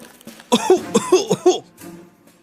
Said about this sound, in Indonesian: serpihan batang kayu yang tergigit Sinu membuatnya tersedak lalu terbatuk-batuk